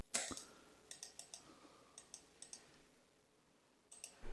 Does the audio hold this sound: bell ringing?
no